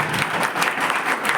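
Loud, sustained applause from an audience at a film event held at an animation college, dense clapping filling the whole stretch with no voices on top.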